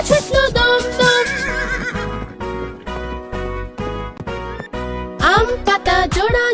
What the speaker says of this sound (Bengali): ঘোড়া ছুটলো দম দম।